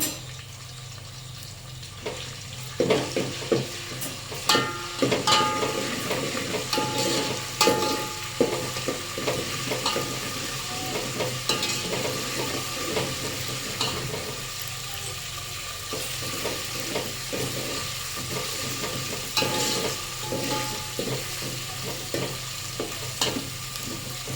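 Bitter gourd frying with ginger and garlic in a hot pan, sizzling steadily while being stirred, with scraping stir strokes that come and go over the continuous fry.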